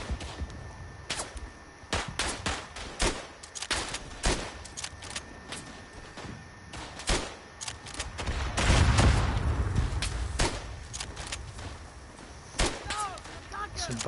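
Gunfire in the WW1 game Verdun: many sharp, cracking rifle shots ring out at irregular intervals, some near and loud, others distant, with a heavier thump midway and faint voices underneath.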